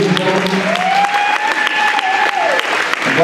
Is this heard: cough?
no